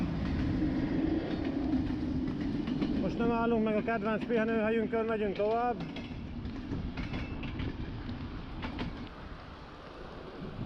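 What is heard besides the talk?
passing train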